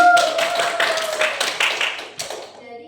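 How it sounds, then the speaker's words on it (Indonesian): Students in a classroom clap together in a short burst, several hands slapping in an uneven patter that fades out after a couple of seconds, with a sustained tone underneath early on. "Betul ya, tepuk tangan dong."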